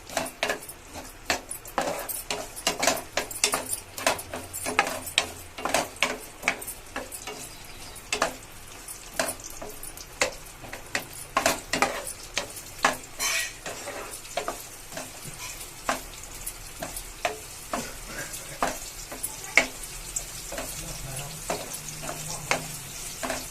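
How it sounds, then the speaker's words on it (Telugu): Chopped onions fry in a pan for a papad masala curry, a continuous close sizzle punctuated by frequent sharp crackles and stirring clicks across the whole stretch. "ఆనియన్ కూడా కొంచెం దూరగా వేగేంత వరకు వేయించాలండి"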